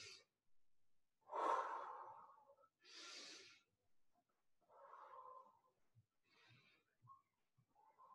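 Slow, deliberate breaths during a gentle movement and breathing exercise, with long audible inhales and exhales spaced by pauses, close and fairly soft, with no talking.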